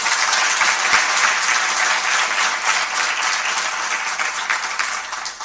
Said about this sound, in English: So please give them a big applause.